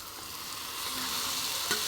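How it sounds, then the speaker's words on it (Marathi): Roasted aubergine hitting a hot pan for Indian baingan bharta, giving a steady close sizzle and frying hiss that swells slightly as it settles, with a brief stirring scrape near the end. "आता ह्याच्यामध्ये मी वांगं भाजलेलं ते टाकून घेते."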